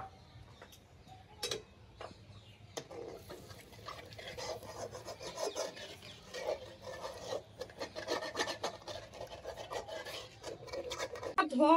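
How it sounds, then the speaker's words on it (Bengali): A wok is scrubbed and washed in a Bengali home kitchen, with rough rasping strokes in an uneven rhythm and scattered taps and knocks, close and fairly quiet, growing busier toward the end. "কড়াইটাকে এবার আমি এখানে সুন্দর করে ধুয়ে ফেলব।"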